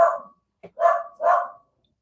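A dog guarding a house gives three loud, close barks in quick succession, the first two separated by a short pause and a small yip, in an otherwise quiet room.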